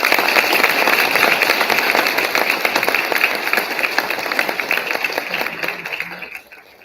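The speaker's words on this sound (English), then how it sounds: "Please give them a round of applause." Audience clapping at a school board meeting after students are honoured, a dense sustained patter that holds steady then thins out near the end.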